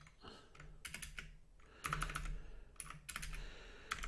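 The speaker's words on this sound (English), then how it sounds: "I always have trouble to press the O on this keyboard for some reason." Keys clatter on a computer keyboard in quick irregular bursts separated by short pauses, close and fairly quiet, while someone types during work on a Pico-8 game.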